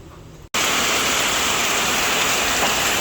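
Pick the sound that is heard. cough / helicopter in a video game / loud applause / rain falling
rain falling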